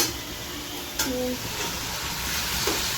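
Dhekia fern greens frying in a pan with a continuous hiss and sizzle, with a brief clatter of stirring partway through and no talking.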